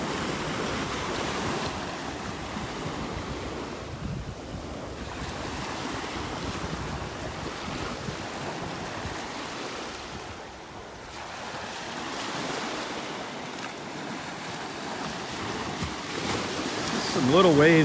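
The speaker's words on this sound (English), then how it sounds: "Some little waves breaking on the shore." Small waves break gently on the shore of a Gulf beach at Delnor-Wiggins in North Naples, Florida, a soft rolling surf wash with swells and lulls under steady wind noise.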